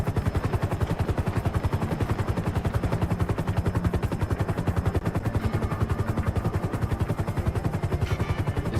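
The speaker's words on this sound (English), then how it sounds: "Shots. Those are heavy shots." Rapid, continuous heavy gunfire from GTA V, a steady loud hammering burst with no pause across the whole stretch, close and dense.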